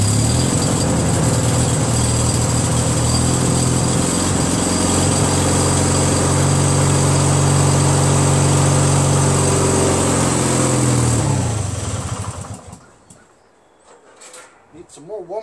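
A Craftsman DYT4000 lawn tractor engine runs steadily and loudly while warming up, a close, even droning hum for about twelve seconds before it cuts off into near silence with faint clatter.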